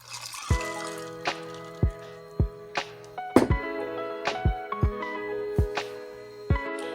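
Homemade strawberry iced tea poured into glasses full of ice, giving a run of sharp clinks, ticks and crackles of ice with a faint liquid trickle underneath, close and fairly quiet.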